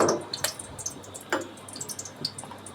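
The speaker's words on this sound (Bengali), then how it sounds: "এখন আমি দিয়ে দিলাম তেল।" Cooking oil poured into a pan: soft, quiet dribbling and a few small drips and splashes, spaced irregularly, close by and with no voices.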